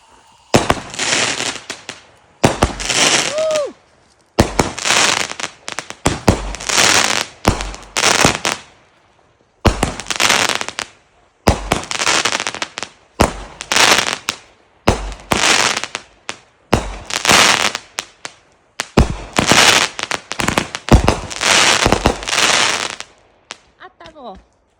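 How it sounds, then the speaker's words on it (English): Home fireworks set off outdoors at night, repeated loud crackling bursts each lasting a second or two, separated by short silences, close and sharp for over twenty seconds, with a brief whistling rise among them. "We're gonna do fireworks tonight."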